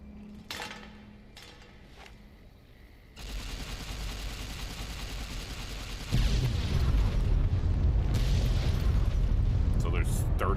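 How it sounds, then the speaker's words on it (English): A warhead detonates in Fallout: New Vegas, a loud booming blast that swells into a sustained roaring rumble and stays heavy to the end, following quieter ambient game noise and scattered sharp sounds. "I'm going to set off the nuke and see what happens."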